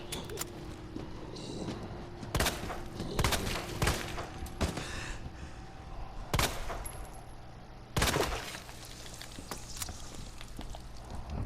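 Gunfire in the Resident Evil 2 video game, several sharp, loud shots spaced irregularly over a low ambient game background, with no one talking.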